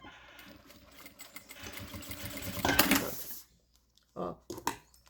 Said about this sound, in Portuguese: Vou fazer mais uma costurinha aqui.